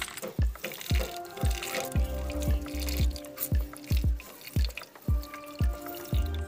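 Water squeezed from grated bottle gourd wrapped in a cloth falls in distinct, regular drips into a bowl, about a dozen close, clear plinks with a faint trickle between them.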